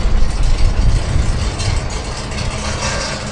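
A Chevrolet Camaro drag car fitted with Paul's engine idles with a deep, heavy rumble at a drag strip event, steady and loud, with a broad roar holding throughout.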